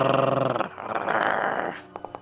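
A dog growls low and close for about two seconds, a steady rumbling snarl that ends in a few short sharp noises, with no one speaking.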